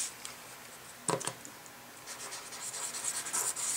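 A Zig 2-way glue pen being applied to paper while assembling a flower scripture verse card: faint close scratchy strokes and light rubbing, a brief louder tap midway, quiet and alone.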